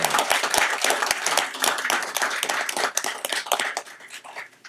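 Applause in a parish council meeting room, with a dense patter of many hands clapping steadily and fairly close for the whole stretch, with a few sharper individual claps standing out.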